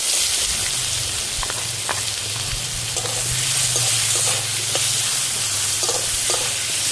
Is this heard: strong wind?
no